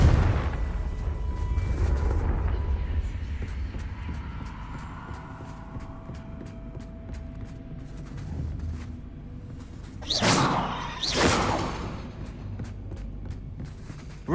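A Confringo blasting spell detonates in Hogwarts Legacy, two sharp booming bursts in quick succession near the end after a quieter stretch of rumbling game ambience.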